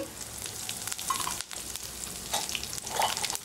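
Peppercorns, a clove, cinnamon, dried red chillies and green chillies frying in hot oil for a chicken curry with sorrel leaves, a steady crackling sizzle with scattered pops and a few stirring scrapes, close and moderately loud.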